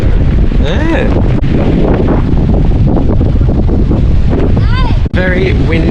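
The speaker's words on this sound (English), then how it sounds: "Very windy." Strong wind buffets the microphone at a coastal wharf, roaring in heavy continuous gusts, while voices talk and exclaim intermittently beneath the rumble.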